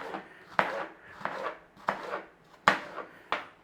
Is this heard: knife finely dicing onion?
yes